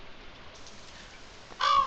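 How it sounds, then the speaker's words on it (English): A crow caws once, short and fairly close, in a farming video game on a rainy day, after a quiet stretch of soft rain. "And look, another crow. You see that?"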